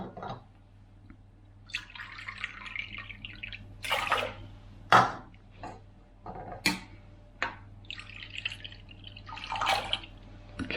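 Water poured into a pan holding shelled hemp seeds, heard as scattered splashes, drips and trickles in irregular bursts over a quiet kitchen background.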